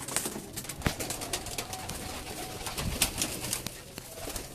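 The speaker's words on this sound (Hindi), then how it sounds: "कबूतर बहुत ज़्यादा है" Pigeons at a breeding farm coo and flutter nearby, soft repeated calls over a busy background of wingbeats and scuffling from many birds.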